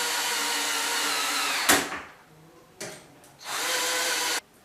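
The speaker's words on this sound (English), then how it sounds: "now I fix them with this drill machine" An electric drill drives screws into an electronic laser device in two loud, close whirring bursts, separated by a brief quiet pause and a short tap.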